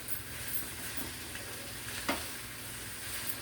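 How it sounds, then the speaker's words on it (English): Cabbage fries with spices in a pan, giving a constant close sizzle broken by occasional scraping stirs and one sharper clatter. "We're gonna keep frying. Just keep frying this cabbage up. See how it's just frying?"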